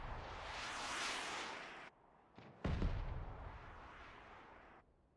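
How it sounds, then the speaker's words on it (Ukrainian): Heavy booming blasts of artillery fire in a video game, a long rumbling barrage followed by a sharp close explosion that rolls away, with no talk. "артилерія працює просто по всі боки"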